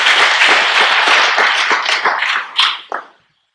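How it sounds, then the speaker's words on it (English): An event audience gives a round of applause, a crisp burst of many hands clapping that holds steady, then thins out into a few last claps and stops. "So let's also give them a round of applause."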